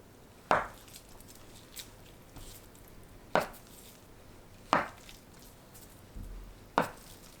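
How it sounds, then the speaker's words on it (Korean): Knife slicing drained tofu lengthwise into 1 cm strips on a cutting board, four sharp separate knocks spaced a second or more apart, close and clear against a quiet kitchen. "1cm 두께로 길게 썰어주세요."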